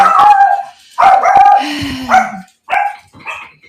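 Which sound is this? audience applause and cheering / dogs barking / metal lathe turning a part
dogs barking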